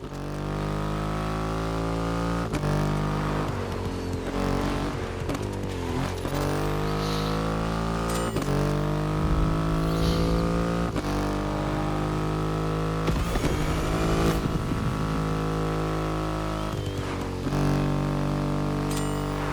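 A Triumph motorcycle from The Crew Motorfest, with an extreme engine of about 2.5 liters revving steadily in a loud, close, harmonic drone that rises and falls through several gear shifts. No voices.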